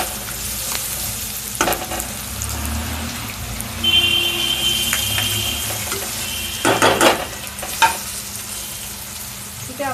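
Crushed ginger-garlic paste fries with onion in a pan with a constant close sizzle, broken by clinks and scrapes of a spoon against metal and a few louder clattering stirs.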